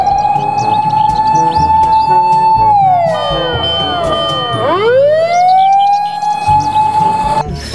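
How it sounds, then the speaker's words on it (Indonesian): Toy fire engine siren, loud and close, wailing in a long steady tone that sweeps down and then rises back up, repeating once with a few soft clicks and handling noises underneath. "ini mobil pemadam kebakaran."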